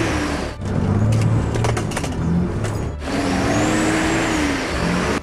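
A 4WD engine revs hard while pushing through sticky mud, loud and close, with a brief dip around the middle before the engine surges again and holds a strained roar.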